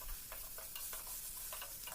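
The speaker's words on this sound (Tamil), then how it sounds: "தக்காளியை ஒரு 2 மினிட்ஸ் வதக்கிக்கலாம்." Tomatoes sautéing with a little salt in a pan for masala puri, giving a steady frying sizzle with soft stirring scrapes at irregular intervals, close up and with no talk.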